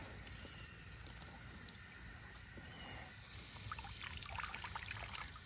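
Water poured close beside a baby alpaca's ear, a faint trickling and splashing that grows slightly stronger partway through, with outdoor ambience underneath.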